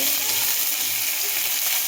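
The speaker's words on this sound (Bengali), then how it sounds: "তো হে বন্ধুরা দেখো মাছ ভাজা চলছে" Fish fries in plenty of hot oil, a loud, dense, continuous sizzle and crackle heard close up and alone, with no talking.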